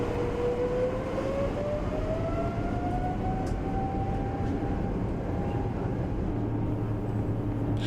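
China Eastern Boeing 777-300 jet engines spooling up for takeoff, a loud continuous roar with a rising whine that climbs and then levels off, heard from inside the cabin.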